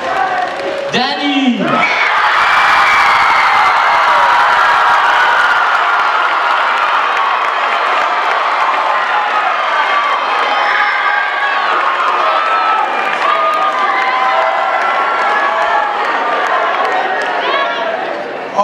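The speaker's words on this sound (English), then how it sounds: "Round of applause." A high school talent show audience roars with sustained cheering, whooping and applause for the first-place winner, a dense, loud crowd wash that stays steady for the whole stretch.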